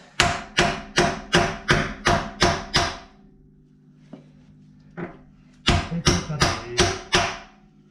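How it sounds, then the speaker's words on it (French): Two bursts of rapid, evenly spaced hammer strikes, about eight blows each, separated by a quieter pause with a couple of isolated knocks, during rear axle maintenance on a Ford Mustang. "On prend plus le marteau."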